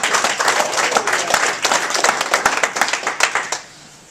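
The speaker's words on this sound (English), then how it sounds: "Just give yourselves a round of applause." An audience at a motivational tour show gives itself a round of applause, brisk dense clapping from many hands that holds steady for several seconds before quickly dying away.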